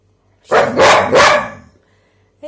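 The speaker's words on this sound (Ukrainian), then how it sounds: "Якщо песик ти хороший, скажи гав" A pet dog gives a single drawn-out, loud bark close by on command, split into two or three quick pulses, surrounded by near silence.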